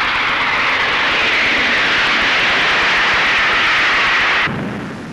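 Propeller plane flying at over 100 miles an hour, its steady loud engine drone filling the air continuously before dropping off sharply near the end.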